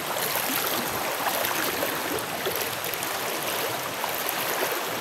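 Floodwater deep enough to reach waist height rushes steadily past, a continuous broadband wash of turbulent water that stays loud and even throughout with no voices.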